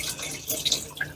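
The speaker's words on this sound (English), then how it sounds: "Get it under that running water" Running tap water splashes over a foam polishing pad being rinsed and squeezed in a sink, a short close burst of bright, uneven gushing.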